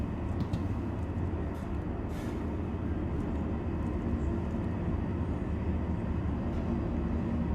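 Metro train arriving at a station in Star Citizen, a steady low rumble and drone from the approaching train cars, fairly quiet and continuous, with no talk over it.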